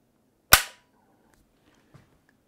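Marlin lever action rifle trigger pull during trigger-weight testing: one sharp, loud snap of the hammer falling, followed by a faint small click.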